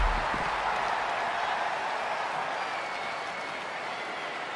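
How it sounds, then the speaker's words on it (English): Crowd cheering and applauding in the WWE 2K20 wrestling video game, a dense arena roar of clapping and cheers that stays steady and slowly eases off, with no clear talk on top. "And this crowd's starting to perk up, Michael."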